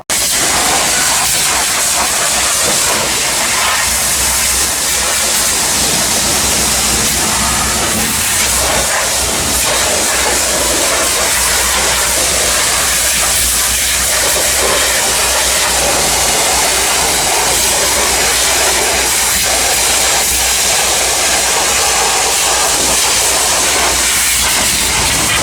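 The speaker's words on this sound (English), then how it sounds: "he's pressure washing" Pressure washer blasting grime off a Massey Ferguson MF 35 tractor's engine and wheels, a loud, close, continuous hissing spray that runs unbroken throughout.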